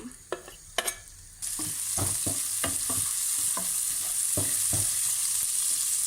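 A sharp clatter, then steady loud sizzling of chili and garlic frying in hot oil, with a utensil scraping and tapping the pan at a regular pace.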